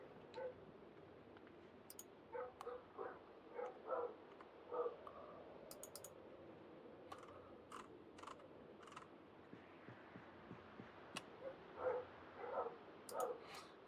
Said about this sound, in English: I can hear my dog's going mad.